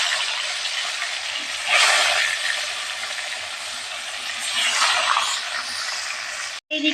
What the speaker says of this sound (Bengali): মাছটা আমি এবার ভাজা বসিয়ে দেবো,